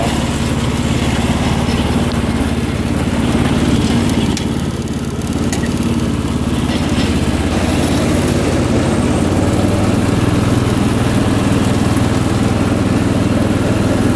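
A 1983 John Deere 214 lawn tractor engine runs at a steady loud drone throughout, a continuous low rumble with a constant mechanical hum and no voices.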